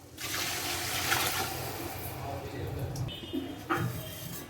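About 2.8 litres of water pours steadily into a biryani pot with a continuous splashing gush, tapering near the end, while someone talks over it.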